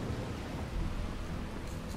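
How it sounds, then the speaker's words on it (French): Steady rain with low rumbling thunder in the Starfield video game, a dense constant hiss of rainfall over a deep continuous rumble, fairly quiet and with no voices. "Il pleut en plus."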